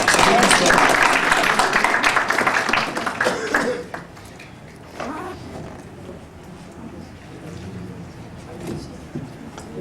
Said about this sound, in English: So please applaud.